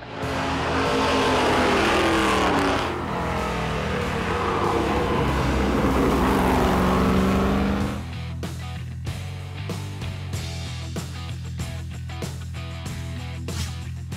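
Vintage race cars such as Porsche, Shelby and Jaguar roaring along a track, a loud sustained engine howl rising and falling as cars pass close, then dropping to a lower rumble with scattered sharper mechanical noises.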